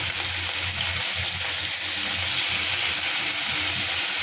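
Hilsa fish frying lightly in hot oil for a Bengali fish curry with potato and eggplant, a dense, steady sizzle and crackle filling the whole stretch, loud and close with no voices.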